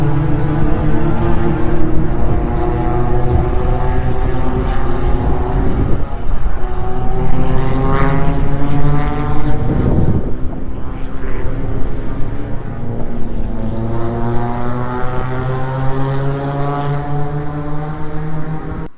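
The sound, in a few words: race cars running a practice session at Dubai Autodrome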